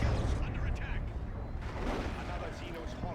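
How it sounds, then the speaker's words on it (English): Sentinel walker firing in the Warhammer 40,000: Dawn of War 2 strategy video game, a dense rumble of rapid gunfire and explosions mixed with other battle noise, while a voice talks over it. "What is this noise? Oh, it's the Sentinel shooting stuff."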